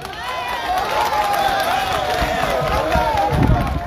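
A crowd at an interreligious debate in Benin cheers and claps in a dense, continuous roar, with voices shouting over the clapping throughout.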